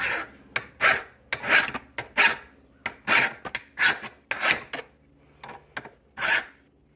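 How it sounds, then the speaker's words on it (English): A file rasps against a part from a 1982 Honda Urban Express scooter in a run of loud, close, back-and-forth strokes, each a short gritty scrape with brief pauses between. "So we're going to go ahead and rub the file on here."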